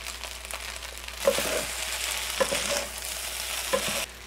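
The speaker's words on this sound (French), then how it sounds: "Et on va venir bien mélanger encore." Chinese fried rice sizzles steadily in a hot wok with sesame oil, scraped and stirred, with three sharp spatula clacks against the metal over continuous frying hiss.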